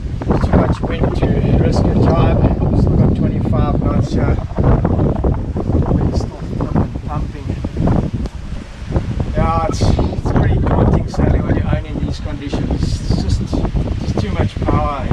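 Strong wind of about 25 knots batters a sailboat at sea, a constant loud roar of wind noise across the microphone with rustling and slapping, while someone talks throughout.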